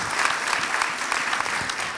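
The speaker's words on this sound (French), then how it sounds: "On peut vous applaudir" Audience applause at a conference on COP 21, a steady wash of many hands clapping that fills the short moment evenly, fairly close and without talk.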